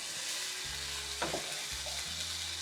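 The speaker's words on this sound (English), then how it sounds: "stir these together" Chow mei fun ingredients for chicken chow mei fun sizzle gently in a pan, with a low continuous fry and a few stirring scrapes and clatters, fairly quiet throughout.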